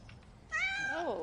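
A single drawn-out meow from a cat at a Bristol shelter caring for abandoned cats and kittens, rising then sliding downward, close and fairly soft against a quiet room.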